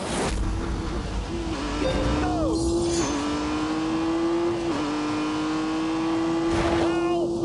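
A Honda NSX engine in The Grand Tour game revs and climbs through gears, with a rising whine broken by shift dips and a steady held drone, loud and close, while a voice talks over it.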